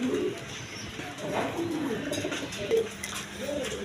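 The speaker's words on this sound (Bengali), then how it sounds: "ডিম সহ বোম্বাই কবুতর নিতে পারবেন" Indian Bombay pigeons in coop pairs at a pigeon farm coo in repeated soft, throaty phrases close by, with faint background voices and light clatter.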